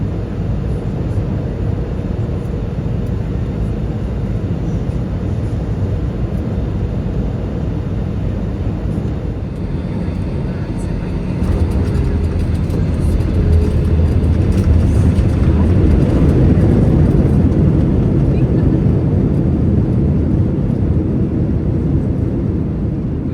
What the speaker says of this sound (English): coming into land on runway 35 right